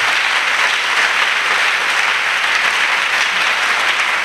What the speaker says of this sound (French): Let's clap Jesus.